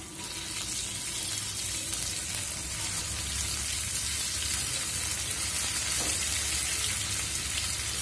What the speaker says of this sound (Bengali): আমি এখানে 1 চামচ রসুন বাটা দিয়ে দিচ্ছি।